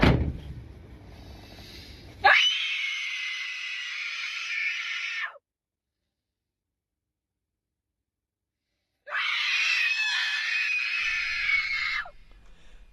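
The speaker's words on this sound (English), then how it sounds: "this video starts out with this psychopath sitting screaming" A woman screams in a played video, two long, loud, strained screams separated by several seconds of silence, with a low murmur at the very end.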